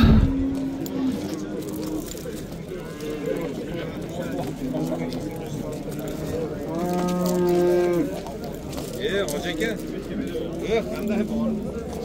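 Dairy cows low repeatedly at a livestock bazaar, several drawn-out moos rising over a busy background of crowd murmur and occasional hoof clatter, with people talking nearby.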